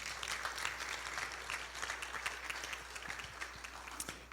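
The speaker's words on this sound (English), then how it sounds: "give a clap if you want to clap for" Audience applause at a church camp report gathering, a steady crowd of clapping hands that carries evenly from start to finish at moderate distance, with no one speaking over it.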